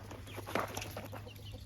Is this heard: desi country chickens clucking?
yes